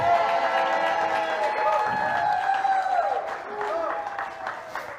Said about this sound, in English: I have not heard one fucking raucous applause of a happy birthday for Tracy.